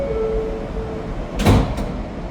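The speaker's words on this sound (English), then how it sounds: "Clear of the closing doors, please." Doors on a New York City subway Kawasaki R211T train slide shut with a short thud and rattle midway, set against a steady hum and a faint tone from the idling train.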